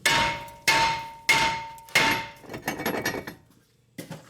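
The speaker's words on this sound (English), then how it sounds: "now I'm going to tap the brake rotor so we can remove it" A hammer strikes a Toyota Avalon front brake rotor to free it from the hub: four loud, ringing metallic clangs at even intervals, then a cluster of quicker, lighter taps and one last single hit, close up with no talking.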